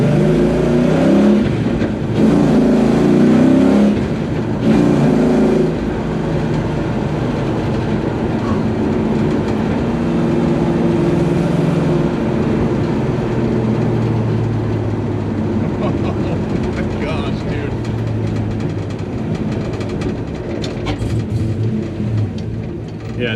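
A 1970 Dodge Coronet swapped with a 6.1 HEMI engine rumbles deeply on the road, surging loud as it accelerates early and then settling into a steady low drone, with voices talking over it.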